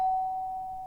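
A single electronic doorbell chime, a clear steady tone that rings once and slowly fades over about a second, alone without speech.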